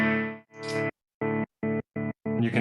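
Guitar played through a tremolo effect on a ZOIA pedal, its volume chopping into separate pulses that grow shorter and quicker as the rate speeds up, with a brighter wash of sound at the end.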